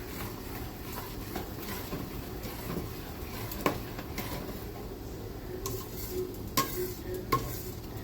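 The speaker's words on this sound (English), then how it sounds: "You want to continue to stir it so that it doesn't burn." Spoon stirring strawberry Christmas jam at a rolling boil in a pot, giving a steady low bubbling bed with occasional soft scrapes and clicks against the pot, close and fairly quiet, with no talk.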